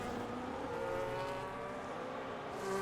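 Alpine racing cars driving side by side in a racing game, a steady engine drone with whining tones that holds throughout, close and continuous.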